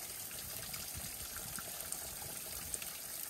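A mountain spring on the Appalachian Trail in North Carolina trickles as a soft, steady wash of water, continuous and fairly faint, with no talking.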